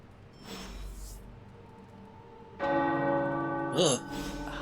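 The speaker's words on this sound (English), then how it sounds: "The tower bells are ringing." Tower bells ring in Midnight Suns: after a quiet, faint opening, a loud, rich, sustained peal swells in partway through and keeps resonating, with a brief wavering tone rising over it near the end.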